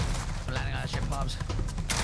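Enemy cluster strike explosions in a shooter video game, a dense burst of rapid booms and crackling blasts packed into a couple of seconds, loud and close, with voices talking over them.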